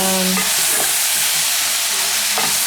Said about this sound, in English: pan the onion until it browns before you add in the tomatoes